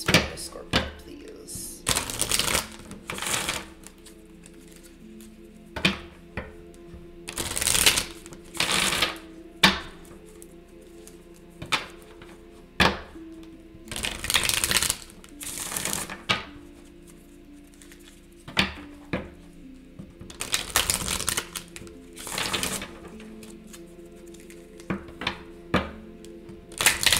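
Enchanted map oracle cards being shuffled by hand, repeated bursts of riffling and patter close by, alternating with quieter gaps and some talking.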